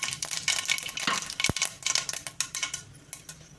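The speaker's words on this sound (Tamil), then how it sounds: "கடுகு உளுந்து போட்டோடனே பார்த்தீங்கன்னா பொரிஞ்சிருச்சு" Mustard seeds and urad dal splutter in hot oil in a pan, a dense run of sharp crackles and pops, close and continuous, with one louder pop midway.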